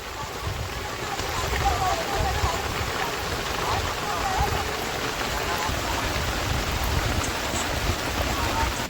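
Rain falls steadily at a riverbank in the Sundarbans mangrove forest, a dense, even patter and wash close by with no breaks.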